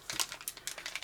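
A plastic bag crinkles softly as craft supplies are unpacked, with quick irregular rustles and crackles, quiet and close, and no voice over it.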